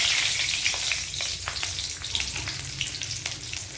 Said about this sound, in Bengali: প্রথমে কড়াইতে দেবো সর্ষের তেল, একটু গোটা জিরে কাঁচা লঙ্কা ফোড়ন দিয়ে দেবো